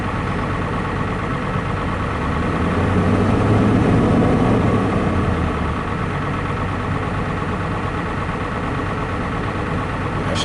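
A vehicle engine idles high, a steady close rumble that swells briefly then settles, with no talking.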